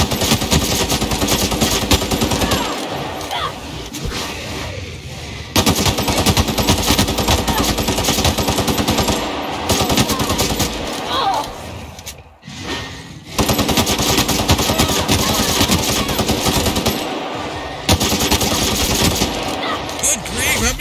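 Gunfire in the video game The Outer Worlds, sustained automatic bursts and rapid shots that stay loud and dense throughout, with brief lulls and some speech underneath.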